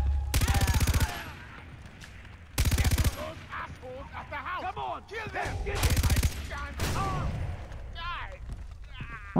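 Gunfire in the first-person shooter Far Cry 3: three loud bursts of rapid shots separated by pauses, with someone talking between and under the bursts.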